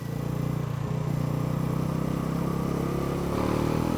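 A Bajaj Pulsar NS400 motorcycle rides in third gear at about 40 km/h, its engine holding a steady, continuous mid-pitched drone close to the rider with no talk over it.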